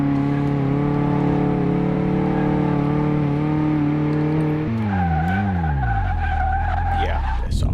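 A car in Car Mechanic Simulator 2018 runs its brake test, the engine holding a steady tone before dropping sharply into a wavering tire skid that fades out, loud with no talking.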